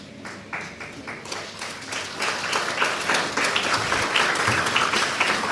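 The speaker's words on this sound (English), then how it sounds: "Finally, some applause." Crowd applause at the EHS Mesopotamia graduation ceremony in 2025 begins as scattered claps, then swells after a couple of seconds into fuller, sustained clapping from a large audience.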